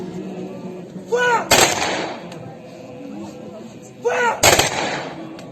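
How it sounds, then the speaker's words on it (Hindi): An army gun salute rings out at a martyr's state funeral in India, two loud volleys of rifle fire spaced a few seconds apart, each burst cracking sharply and echoing, with a crowd murmuring faintly between them. "सेना ने मातमी धुन बजाई और गन फायर करके सलामी दी।"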